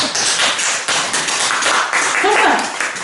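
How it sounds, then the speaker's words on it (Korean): A church congregation claps together loudly for a short stretch, dense overlapping hand claps close by that swell and dip, with some voices mixed in. "정말 박수 쳐줘야 돼요"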